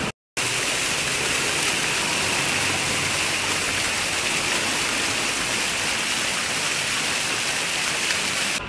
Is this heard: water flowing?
yes